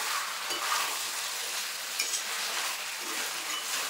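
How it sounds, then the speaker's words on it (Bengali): Jackfruit and chicken pieces being stirred and fried with spices in a pan, a dense continuous sizzle with soft scraping of the spatula running throughout, close and fairly loud. "তো দেখো এঁচড় দিয়ে আমি কষিয়ে নিচ্ছি যাতে মশলাটা ভালোভাবে যায় এঁচড়ের ভেতর।"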